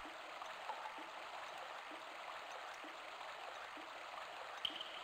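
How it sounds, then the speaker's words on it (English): Steady flowing water in the video game Grandia, a constant broadband rush like a nearby stream or small waterfall, with a faint click partway through and no talking. "I hear water, Justin?"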